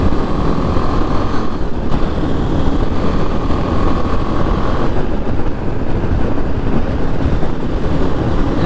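BMW G 310GS motorcycle on the move, a continuous loud engine drone mixed with heavy wind rush over the microphone, steady throughout with no pauses.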